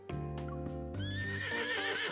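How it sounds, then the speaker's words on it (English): In the game Love and Deepspace, a horse revenant in silver armor emerges from the mist with a close, drawn-out whinny that rises and wavers, while clip-clop hoofbeats and low ambient music sound beneath it. "A moment passes, a horse revenant clad in silver armor emerges from the mist."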